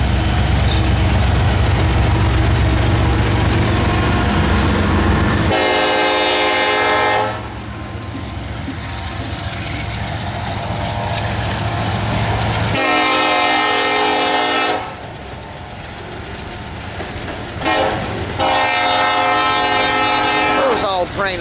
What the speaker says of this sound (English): Train of some sort.